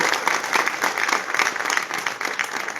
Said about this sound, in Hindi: एक बार तो ताली नरेंद्र मोदी के लिए बजनी ही चाहिए